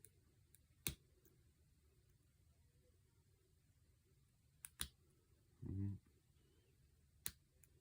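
Pins of an American 1165 six-pin padlock clicking while being picked with a McTickler and #4 Hook Reaper: a few sharp, isolated clicks spaced seconds apart against a quiet background, with one brief dull knock.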